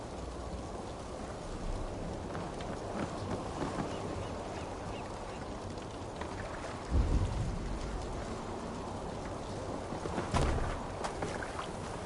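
Stormy seas in Assassin's Creed Valhalla: a steady roar of wind and rain fills the whole stretch, with two brief heavier crashes of thunder or waves breaking partway through.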